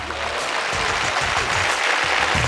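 A studio audience on a Telugu game show bursts into steady, dense applause that fills the whole moment, loud and continuous with no voices over it.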